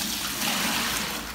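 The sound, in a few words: hot water poured into a bucket for soap making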